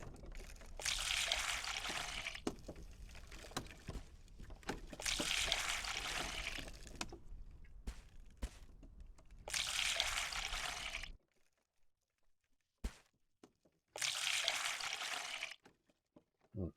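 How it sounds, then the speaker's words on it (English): Water pouring and trickling while watering a garden in the video game Reign of Kings, coming in several long, steady bursts separated by short pauses and faint clicks. "one more section and we'll be done with the watering."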